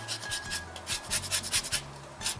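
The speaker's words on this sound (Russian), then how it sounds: "И натру на терке цедру лимона." Lemon zest is grated on a kitchen grater for a sour-cream topping, a quick run of rhythmic rasping strokes, soft and close, about a dozen scrapes in a brisk back-and-forth pattern.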